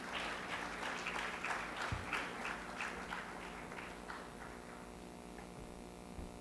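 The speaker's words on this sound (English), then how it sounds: "Let's have a big round of applause, everyone." An audience applauds at a formal ceremony honoring dignitaries, the many overlapping claps rising briefly and then gradually fading away over a faint steady mains hum.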